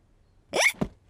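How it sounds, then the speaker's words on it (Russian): George, a pig character in the Peppa Pig cartoon, gives a single sharp hiccup, a brief squeaky gulp followed by a quick low catch, loud and close against silence. "Not while George has hiccup."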